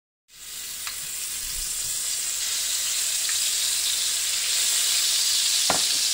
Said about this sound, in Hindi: और अब हम इसमें डालेंगे जिंजर गार्लिक पेस्ट जो है 3 टीस्पून्स.